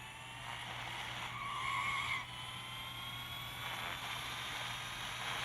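A Battista hypercar in a racing video game skids under late braking, giving a faint tire squeal over a steady engine drone, rising briefly then fading.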